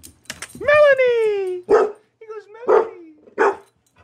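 A dog lets out a long whining howl followed by several sharp barks at the mail carrier passing by, loud and close, with a person speaking over it.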